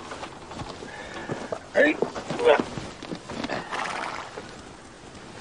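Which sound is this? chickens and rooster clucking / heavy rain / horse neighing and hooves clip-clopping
horse neighing and hooves clip-clopping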